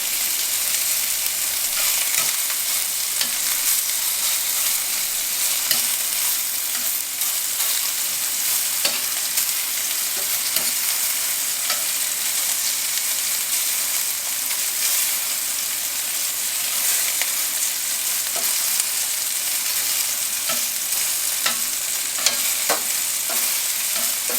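Tex-Mex meatballs sear in a pan with a loud, continuous close-up sizzle and occasional crackles and pops, sustained steadily with no voices over it.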